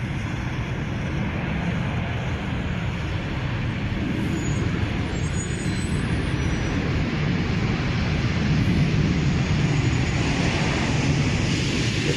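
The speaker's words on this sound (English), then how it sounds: "It sounds like he's coming out of reverse engine on the right engine." DHL Boeing 757-200 on the runway at San Jose, Costa Rica, its right engine spooling down out of reverse thrust: a steady, loud broadband jet roar with heavy low rumble, continuous and close throughout, no talking.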